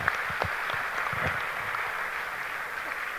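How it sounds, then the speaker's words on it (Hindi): Audience applause at a company anniversary celebration, a steady dense wash of clapping through the whole stretch, with a few distinct hand claps standing out near the start. "तालियां दोस्तों SEP के लिए।"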